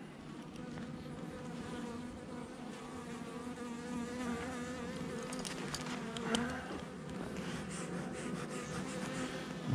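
An open honeybee hive with frames exposed, giving a continuous, dense, close buzzing drone from the colony that holds steady throughout, with no talking.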